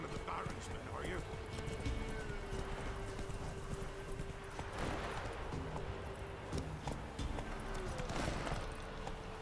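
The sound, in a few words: horse Roach trotting in video game The Witcher 3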